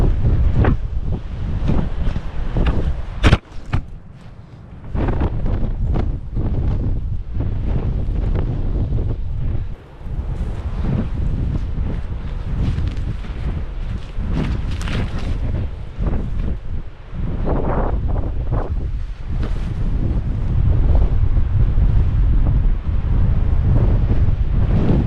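Strong gusts of around 50 mph batter the microphone at an exposed wild camping spot in a storm, a loud continuous roar with surging buffets and no voices.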